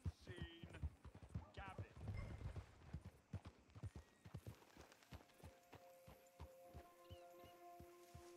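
Horse hooves clip-clop on the ground in the open-world western video game Red Dead Redemption 2. Distinct, rhythmic hoofbeats sound close and steady, with a player talking over them in places and faint game music coming in later.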